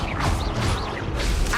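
Confringo spell cast in Hogwarts Legacy, a steady rush of whooshing magic with swelling swishes and a crashing impact, loud and continuous with no voices.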